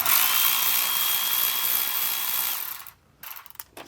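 Milwaukee power tool buzzing loudly and steadily while removing engine cover bolts on a Mercedes C55 AMG M113, then stopping, with a few metallic clicks and clatters after.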